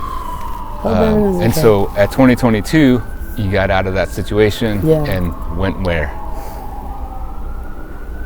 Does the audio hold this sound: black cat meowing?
no